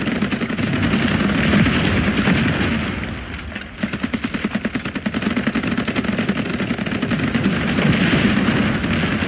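Sustained rapid gunfire aimed at a ship in the naval video game Age of Water, dense continuous bursts of automatic shots with booming impacts, loud and steady for several seconds, no voices.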